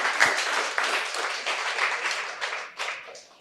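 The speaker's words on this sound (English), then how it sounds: "Can we have a round of applause for Fiona?" An audience applauds for speaker Fiona at a talk, with dense clapping that starts strong and gradually thins and fades.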